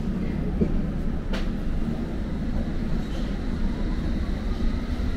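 A London Underground District Line train bound for Ealing Broadway, heard from inside as a steady low rumble and drone of running with a brief metallic squeal, continuous and fairly loud throughout.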